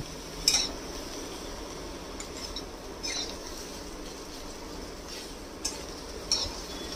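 Onions dry-fry in a pan with no oil over lowered flame, giving a faint, steady low sizzle broken by a few sharp spatula scrapes and clinks against the pan.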